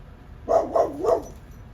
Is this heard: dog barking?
yes